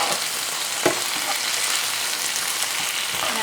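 Vegetables stirred with apple cider vinegar in a hot pan give a steady, loud sizzle with a faint scrape or two from the stirring, and no talk.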